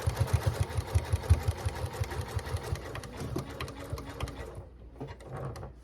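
A sewing machine stitches fusible raw-edge applique on a quilt, running in a fast, steady mechanical rhythm close by before slowing and stopping near the end.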